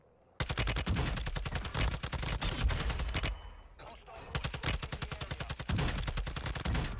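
Sustained rapid automatic gunfire rattles through a wall in the video game Warzone 2, loud and close, in long bursts broken by a brief pause.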